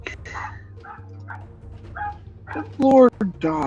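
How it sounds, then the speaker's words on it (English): A neighbourhood dog barks from a house across the street, a few sharp, loud barks near the end, with people talking over and between them. "Lord dog, please stop barking."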